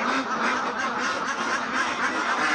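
A flock of ducks on a duck farm quacks continuously in a dense, overlapping chorus, close and loud with no voices over it.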